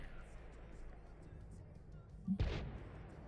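Tank gunfire in a video game strikes a Chieftain tank as a single sharp, heavy boom with a short rumbling tail, rising from a quiet low background.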